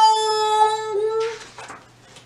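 A voice imitates car brakes screeching: a sustained, high, squealing whine that holds for over a second and then breaks into a short breathy hiss, close and fairly loud.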